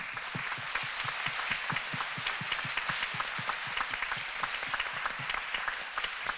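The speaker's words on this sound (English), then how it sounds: "please join me to give them a big round of applause" Steady applause from an audience at a public lecture for the 2019 LUI Che Woo Prize sustainability laureate, dense rapid clapping holding at an even level throughout without pause.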